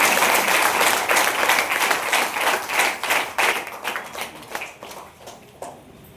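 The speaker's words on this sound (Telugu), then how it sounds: "ఒక్కసారి గట్టే అప్లాస్." Audience applause for Manisha, a degree student honoured for earning ₹1,00,000 a month: loud, dense clapping from a crowd, steady at first and then thinning into scattered claps that fade by the end.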